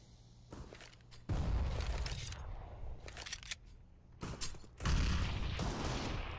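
CS:GO match on Mirage, with SMG gunfire: dense bursts of rapid shots come in several loud waves separated by quieter gaps, with a faint steady tone early on.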